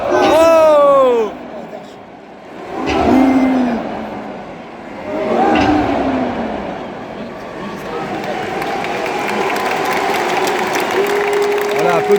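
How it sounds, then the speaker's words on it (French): Audience at a WWE event applauding and cheering, a broad crowd swell rising and falling in waves, mixed with someone talking excitedly over it at close range. "applaudissez là, c'est bien"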